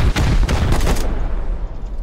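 Loud AK rifle gunfire in the survival game Rust, several sharp close bursts in the first second that trail off into a fading rumble and quieter background.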